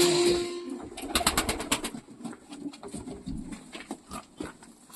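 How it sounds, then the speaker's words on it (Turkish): Pigeon handled by a breeder, giving soft coos and bird calls with a burst of wing flapping near the start, close and moderately loud, mixed with handling noise and other birds in a loft. "Hemen sana bir tane kuş."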